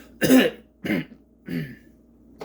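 Three short, forced coughs spaced about half a second apart, close and fairly loud, with quiet gaps between them.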